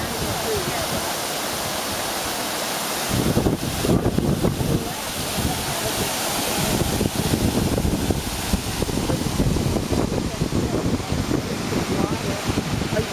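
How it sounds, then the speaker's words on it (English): A waterfall gives a steady, broad roar that stays loud throughout. From about three seconds in, wind buffets the microphone and rumbles over it. "Beautiful waterfall."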